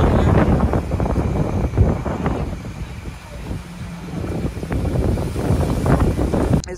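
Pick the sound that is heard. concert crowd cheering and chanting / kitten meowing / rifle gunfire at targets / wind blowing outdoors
wind blowing outdoors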